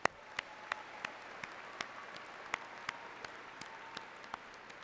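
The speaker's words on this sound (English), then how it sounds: "Let's give them a round of applause, please." Steady applause rises from a commencement audience in Bud Walton Arena, a continuous wash of clapping with a few sharp, distinct claps standing out nearby.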